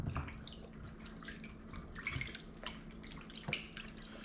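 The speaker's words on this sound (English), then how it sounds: "Just give it a good wash. You can see how the water has turned colors already from cleaning the chicken." Tap water running and dripping into a sink while raw chicken pieces are rinsed and washed by hand, a steady light splash with occasional louder drips, no voices.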